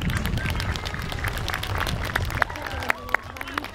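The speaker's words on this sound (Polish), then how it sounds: "Brawa, tym razem dla odważnych dziewczyn." An audience on a car stunt show, with a black BMW driving on two wheels, bursts into dense clapping and cheering, loud and sustained, with a few sharp claps and voices mixed in.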